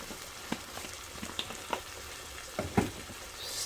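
Lasagna meat sauce sizzling quietly in a pan while it is stirred, soft crackling frying with scattered scrapes and clinks of the utensil.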